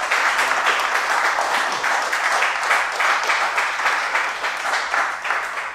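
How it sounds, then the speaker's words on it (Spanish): Studio audience applauding a special guest on a Spanish-language talk show, a steady dense wash of clapping that holds at an even, fairly loud level from start to finish with no voices over it. "Un aplauso para Gilbert,"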